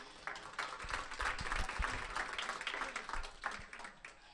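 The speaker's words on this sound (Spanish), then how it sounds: "un aplauso para todos" A class claps together for everyone, a fairly loud, close burst of hand claps with scattered voices that swells, holds, then tapers off.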